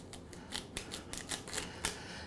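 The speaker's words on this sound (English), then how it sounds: "See the stalks? I cut about an inch off." Asparagus stalks have their ends cut off in the kitchen, giving a quick series of crisp, close snips and crunches over a couple of seconds.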